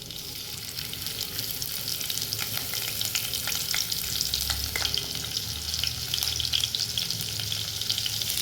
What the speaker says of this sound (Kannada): ಇದೆಲ್ಲ ಚಟಪಟ ಅಂತ ಸಿಡಿದ ಮೇಲೆ ಇದಕ್ಕೆ ಸ್ವಲ್ಪ ಹಸಿಮೆಣಸಿನ್ಕಾಯಿ ಹಾಕೋತಾ ಇದ್ದೀನಿ